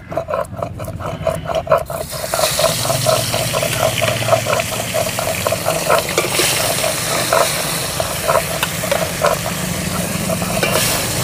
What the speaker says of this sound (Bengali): বাটা মাছটাকে ভালো করে ভেজে নেব